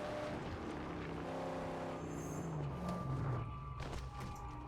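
Cars roaring through a death race in the Mad Max video game, engines droning and rising in pitch as they speed along, loud and continuous with brief tire noise.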